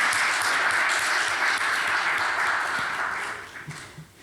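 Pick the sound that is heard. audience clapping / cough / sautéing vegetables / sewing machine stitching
audience clapping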